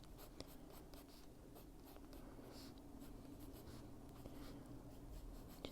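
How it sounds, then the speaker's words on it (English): A pencil shading on paper, steady close scratchy strokes with brief sharper ticks, faint and continuous in a quiet room; no talking. "Just darken them by pulling the pencil down just a little harder."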